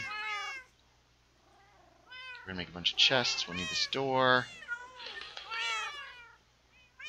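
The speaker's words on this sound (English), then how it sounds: "Hey, cat." A cat in a room meows several times near the microphone, clear harmonic cries opening the clip and returning later, overlapping with someone talking while he plays Minecraft.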